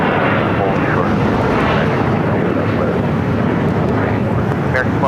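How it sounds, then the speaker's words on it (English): Engine roar of an Embraer E-Jet regional airliner taking off from runway 25 right at Los Angeles International Airport, a steady broadband rumble filling the whole stretch, heard from a distance with wind noise on the microphone. "Taking off, that flight headed to Mazatlan."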